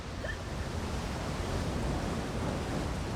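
Steady rushing water from a waterfall inside an Elder Scrolls Online housing area, a constant broadband roar heard alone with no talk.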